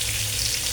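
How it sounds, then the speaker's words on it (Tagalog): Food frying in a pan, a steady close hiss and crackle of hot oil with no break and no voices. "Prito ako."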